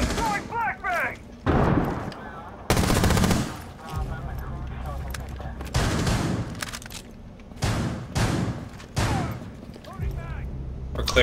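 Rapid automatic gunfire in Rainbow Six Siege on a presidential plane map, loud bursts separated by short pauses, with occasional heavier booms and a player talking between volleys.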